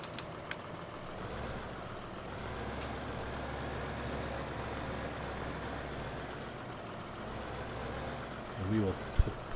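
Tractor engine in the Farming Simulator 15 video game, a steady low diesel drone running continuously at moderate level, with a few brief clunks near the end.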